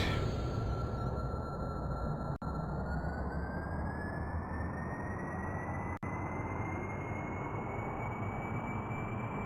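Rocket engine firing at liftoff in a space-flight video game: a loud, steady roar of dense rumble with a rising whine on top, continuous throughout with two brief dropouts, no voices.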